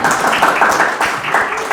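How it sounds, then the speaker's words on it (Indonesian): An audience claps for a lecturer at a campus talk, a dense, steady patter of many hands heard fairly close for a couple of seconds. "Tepuk tangan buat Pak dosen."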